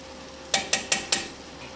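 Four quick, evenly spaced scraping strokes from a spoon stirring parsley, basil and sauce with Parmesan for baked rotini, close and fairly faint against a quiet room.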